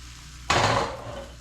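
Thin crepe batter hits a hot buttered pan with a sudden soft hiss that swells and then settles into a gentle, fading sizzle, close and fairly quiet.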